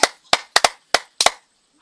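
Several people clap their hands in short, uneven bursts of sharp claps, some close together in pairs, loud and near with no talking, during a Kinyarwanda comedy sketch.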